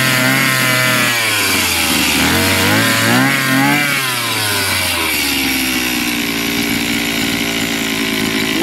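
A Maruyama brush cutter engine runs during a test, loud and close, revving up and down in several surges before settling into a steady high idle drone.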